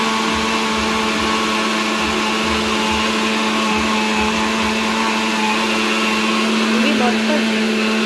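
A mixer grinder whirs as it blends dry fruits, dry-fruit paste and water into juice: a constant, loud motor drone with no breaks, with a voice talking over it.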